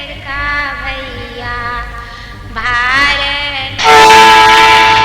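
A train passes close by in a small town in Bihar, India, with a long, loud blaring horn that rises and changes pitch over several seconds, growing strongest near the end and drowning out the background rumble.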